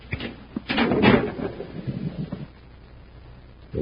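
A hidden door creaks and thuds open as a radio-drama sound effect, with a heavy rumbling scrape that swells and then fades into quiet, followed by a brief knock at the end.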